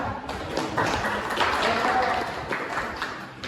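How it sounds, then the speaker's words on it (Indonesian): Students in a classroom give a short burst of clapping for groups three and four, mixed with chatter and voices throughout. "Aplaus dulu kelompok 3, 4"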